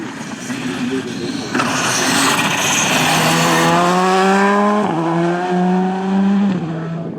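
A rally car engine howls close by, its pitch climbing and then dropping through several quick gear changes. The loud, rasping roar stays prominent throughout.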